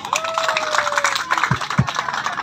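A church congregation at a Way of the Cross procession claps and applauds in a steady crowd patter, with a voice and a tone partly heard over it.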